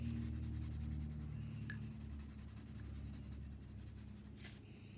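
A black colored pencil scratching over paper while coloring in a drawing, a steady close, quiet rubbing with rhythmic back-and-forth strokes and a brief tick partway through.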